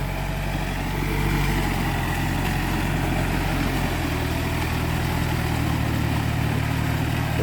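A Yanmar tractor engine labours through a deep muddy rice paddy, a steady low diesel drone with a rumbling lower tone that thickens partway through, running alone without talk.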